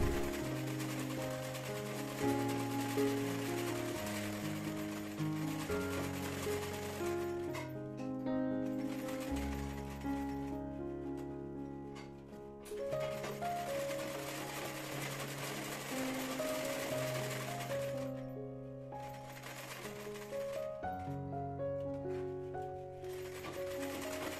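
A sewing machine runs a line of stitching along a blouse neckline, a continuous mechanical whir that pauses briefly between bursts, with music playing underneath.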